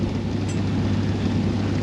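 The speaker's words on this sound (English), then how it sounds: "The wind, that wasn't the sound of the wind, by the way, that was the train." Passing train heard from a boat on the Norfolk Broads near Herringfleet, a steady loud rumble with a low droning hum that holds constant throughout, resembling wind.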